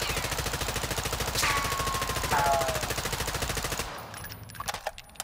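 Rapid automatic M4 rifle fire at a firing range in a Warzone video game, a steady loud stream of shots for about four seconds, then a few scattered quieter pops.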